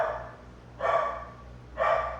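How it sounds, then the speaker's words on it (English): Dogs bark twice nearby indoors, two short separate outbursts about a second apart over a quiet room hum. "Sorry about the dogs."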